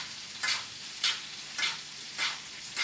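A porterhouse steak sizzles in a pan as it is basted with butter, with five rhythmic hissing swells about half a second apart as hot butter is spooned over, close and alone.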